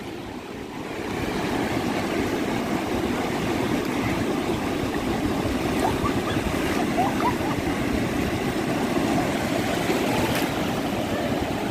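Small ocean waves wash steadily onto a beach at Itanhaém, Brazil, a continuous broadband surf roar with faint distant voices mixed into the background.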